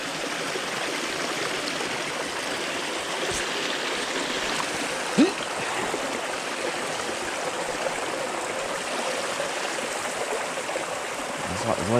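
Stream water flowing over slippery rocks near a pipe outlet, a steady broadband rushing and trickling close by, continuous throughout with a brief splash or knock midway and occasional soft human sounds.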